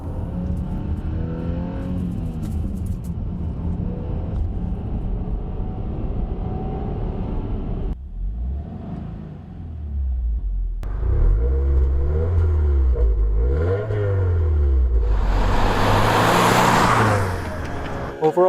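A car engine revs repeatedly, rising and falling through the gears, with a brief lull before a louder, harsher burst of acceleration near the end. The engine is close, loud and steady, and no one speaks.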